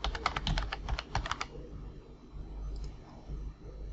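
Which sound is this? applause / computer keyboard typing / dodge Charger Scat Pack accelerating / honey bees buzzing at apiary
computer keyboard typing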